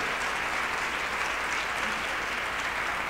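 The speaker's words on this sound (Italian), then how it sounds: "Un applauso su questo." Steady, dense audience applause fills the whole stretch at an even level, a crowd clapping continuously at an Italian talk or stage show.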